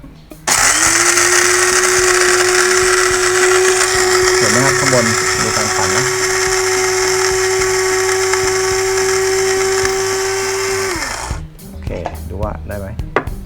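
A loud electric coffee grinder whirs steadily for about ten seconds with a constant high whine, then cuts off, followed by a few quiet clicks.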